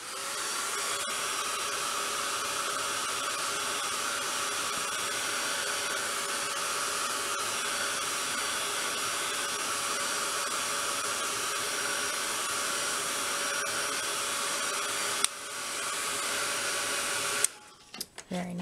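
A heat tool drying paint on a mixed media project blows a steady loud whooshing hum for about fifteen seconds, then switches off with brief handling clatter at the end.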